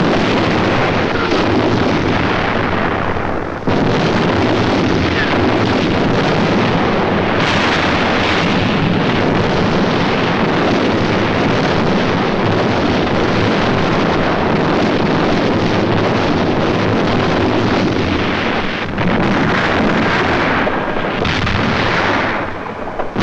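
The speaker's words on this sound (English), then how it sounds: "For days, long-range guns hurled ton after ton of high explosives into the heart of the city." Long-range artillery pounds Leningrad with high explosives, a dense, continuous roar of blasts and rumbling that carries on unbroken for over twenty seconds, loud and harsh, with a few brief drops between barrages.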